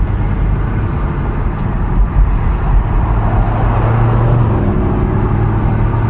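A 2014 BMW M3's engine and exhaust produce a steady, loud low rumble that swells slightly partway through, close and continuous with no talking.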